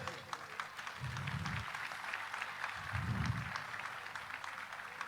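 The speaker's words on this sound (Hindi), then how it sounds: "एक बार खड़े होकर करतोल ध्वनि से ताली बजाइए" Audience at a political event standing and applauding, a faint, distant patter of many hands clapping, with low thumping sounds twice underneath.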